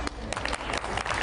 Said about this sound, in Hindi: लेकिन पीछे तालियां ये बज रही हैं कि गलती से क्यों घुस गए थे